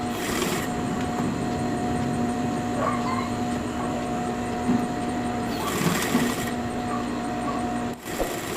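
A sewing machine understitches a bodice lining, running with a steady, whirring mechanical hum that stays even throughout, with a brief dip near the end.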